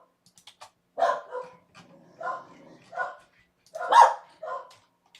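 Corgis barking in scattered, uneven yaps and short woofs, close by, with brief pauses between barks and faint background voices at moments.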